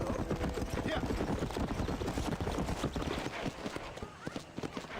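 Horse hooves clip-clopping in the Red Dead Redemption video game, a steady rapid rhythm of close, loud hoofbeats running throughout, with someone talking over them.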